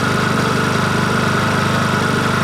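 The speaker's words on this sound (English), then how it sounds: "And as you can see, the engine starts right up." A Venom street legal motorcycle engine idles steadily after starting, a loud, close, even putter with a fast regular pulse and no talking over it.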